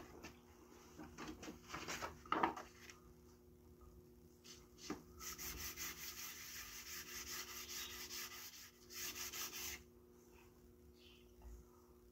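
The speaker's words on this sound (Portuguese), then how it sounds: "Agora vamos passar para uma lixa 500." Wood being sanded by hand with 500-grit sandpaper while building a marking gauge, giving steady close rasping strokes with brief knocks at first, then a sustained run of rubbing that fades out.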